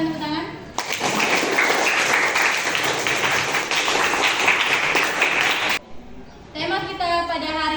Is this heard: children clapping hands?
yes